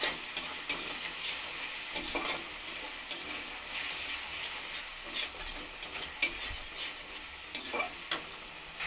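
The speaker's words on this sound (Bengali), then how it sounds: "মশলাগুলো কষিয়ে জল দিয়ে মশলাগুলো কষিয়ে নিচ্ছি" Spice masala being stirred and fried in a pan with a little water and sugar for vegetarian ghugni, steady close sizzling with repeated scraping stir strokes and light utensil clinks.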